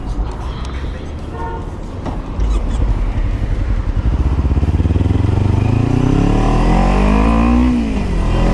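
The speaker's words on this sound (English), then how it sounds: "the biker dropped the clutch and left him standing there in the middle of the street" A motorcycle engine on a city street revs hard and pulls away, its pitch climbing steadily as it accelerates, loud and close over general traffic noise.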